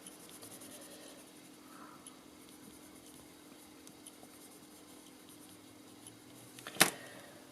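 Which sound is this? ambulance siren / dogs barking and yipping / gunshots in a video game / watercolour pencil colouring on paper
watercolour pencil colouring on paper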